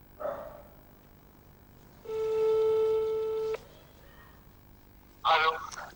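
A telephone call rings on the line as a single steady electronic tone lasting over a second. Brief muffled noises come just before and after it.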